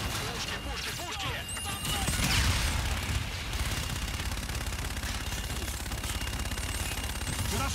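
Rapid gunfire and explosions in the Call of Duty Infinite Warfare video game, loud dense bursts over a rumbling combat backdrop.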